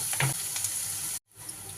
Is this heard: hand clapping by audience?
no